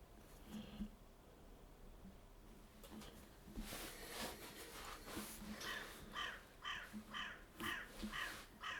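A crow caws outdoors in a rhythmic burst of repeated harsh calls, moderately close, while quieter ambient noise carries on around it.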